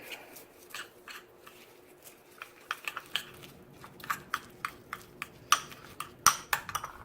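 Black pepper seasoning for a spatchcock chicken is stirred in a bowl, giving soft scraping and a run of sharp clinks and taps that grow more frequent and louder toward the end.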